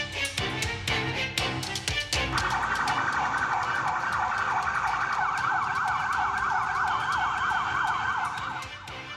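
An ambulance siren wails loud and close, sweeping up and down in a steady repeating cycle over traffic rumble after a few sharp knocks, while the ambulance carries injured police officers.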